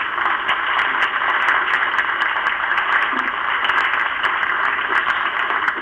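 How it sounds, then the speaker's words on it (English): An audience applauds at a city council meeting with steady, dense clapping that lasts the whole stretch. It sounds muffled and thin, as if heard over a narrow broadcast line. "She's got a round of applause"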